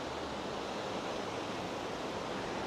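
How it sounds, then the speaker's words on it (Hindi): The swollen Tamraparni river rushes in flood during rain, a loud, steady, unbroken roar of churning water filling the whole short stretch with no voices. "नदी पूरा अल्टीमेट लेवल पर बह रही है"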